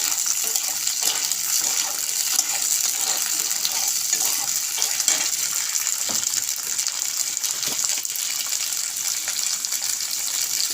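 Bitter gourd fried with prawn heads in a pan, giving a steady, hissing sizzle with occasional stirring clicks, constant and close throughout with no talking.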